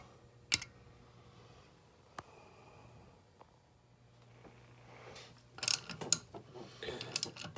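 Ratcheting tool tightening a valve spring compressor on a Chevrolet LS 5.3 engine: sparse, quiet clicks and a few sharp metallic ticks, growing into a busier cluster of clatter near the end, with a low steady hum underneath.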